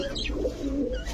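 An Ice Tumbler show pigeon, a feather-footed breed, gives a brief, soft, low coo at close range against faint background noise.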